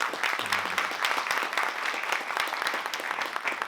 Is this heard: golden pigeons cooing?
no